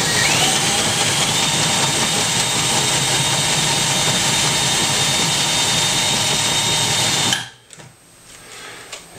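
A power drill runs continuously at high speed boring a screw hole in an HO scale model railroad layout, a loud steady whine for about seven seconds before abruptly cutting off, followed by faint handling noise.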